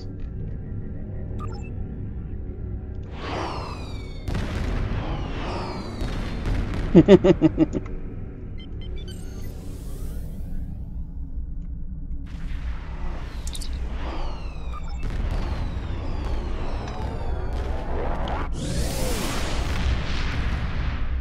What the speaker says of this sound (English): Everyone's got to have some fireworks.